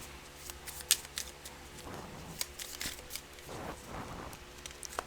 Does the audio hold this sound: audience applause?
no